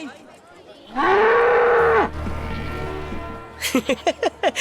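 Cows and buffalo low loudly and close by: one long, sustained moo is followed by a lower, softer call, then a rapid series of short, rising bellows at the end.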